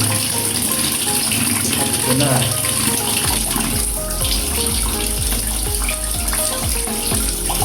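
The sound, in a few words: water running from an opened faucet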